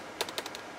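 Quiet typing on a computer keyboard attached to an industrial computer running Linux, a handful of light, uneven key clicks close by with no one talking.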